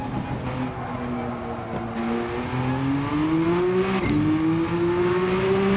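Mid-engine rear-drive race car in the Gran Turismo video game accelerating on the Nurburgring, its engine note climbing steadily through the gears with a brief shift dip, loud and continuous with no talk.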